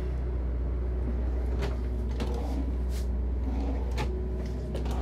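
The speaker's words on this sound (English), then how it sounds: "And I have three drawers." Drawers in the kitchen of a 2023 Winnebago Navion 24J motorhome slide and close with soft, muted thumps, several brief knocks over a steady low background hum inside the coach.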